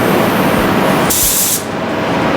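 Spray gun laying clear coat onto a car fender, a close, loud continuous hiss of atomized spray with a brief sharper burst of air in the middle.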